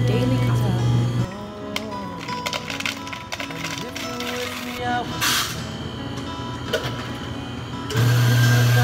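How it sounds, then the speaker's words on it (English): A small motorized coffee grinder in a coffee shop grinds the daily beans early in the morning, its steady buzzing whir loud at the start and again at the end, with a busier mix of sounds in between. "Time to grind the daily coffee."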